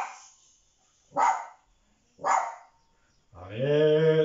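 A female guard dog barks in two sharp, separate bursts, then lets out a longer whining yelp, fairly close in an otherwise quiet indoor room.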